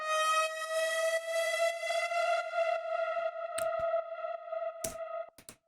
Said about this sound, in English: The first sound you hear is sort of this like screaming brass horn sound